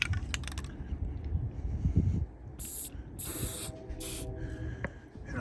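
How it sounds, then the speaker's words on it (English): A spray paint can hisses in short bursts inside an RV mount, three loud sharp sprays following earlier handling clicks and knocks. "Now I'm going to spray some spray paint in there."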